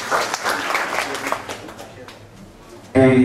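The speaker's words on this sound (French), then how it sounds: "qu'on applaudit très chaleureusement." Warm audience applause at a Bible dedication ceremony, a dense patter of clapping that thins and fades after a couple of seconds before a louder burst cuts in at the end.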